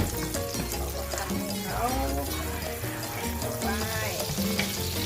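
Elk steak frying in olive oil with butter added in a pan, a steady loud sizzle and bubbling throughout, with someone talking over it.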